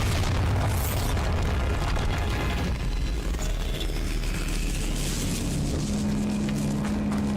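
A Bombarda blasting spell goes off in the ancient catacombs of Hogwarts Legacy, filling the space with a loud, heavy boom and rumbling debris that roll on for several seconds, a low steady hum rising near the end.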